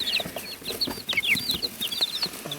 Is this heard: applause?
no